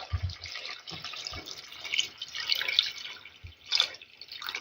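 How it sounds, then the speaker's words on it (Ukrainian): Hot water is poured over pork ribs frying in a pan, giving a steady splashing and dripping with bursts of sizzle, moderately close and with no talk over it. "Буду їх заливати гарячою водою."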